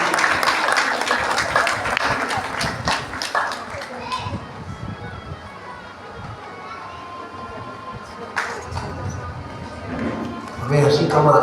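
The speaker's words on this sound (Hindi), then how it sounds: "एक बार जोरदार तालियां माता जी की।" An audience at a Bhagavat katha gathering in a Delhi Sanatan Dharma temple bursts into loud clapping, which tapers off into scattered claps and crowd murmur, with voices and children audible and a fresh burst near the end.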